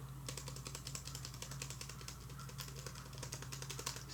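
Key presses on a Lenovo Z16 laptop keyboard space bar, a steady run of quick clicky taps over a constant low hum, close and fairly even in loudness.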